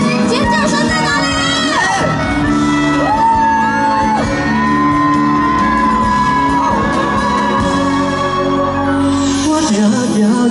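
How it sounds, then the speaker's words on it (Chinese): A large outdoor crowd at a concert on a temple festival evening screams and cheers on cue. The loud sustained shrieks and whoops rise and fall over music playing underneath. "手机比到哪里，你们就尖叫一下"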